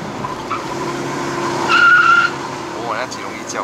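2017 Proton Saga 1.3L Premium CVT climbing a mountain road, its tires giving a brief high squeal over steady engine and road noise heard from inside the cabin.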